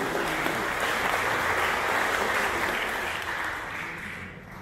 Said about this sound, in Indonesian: Kita tepuk tangan untuk teman-teman ini.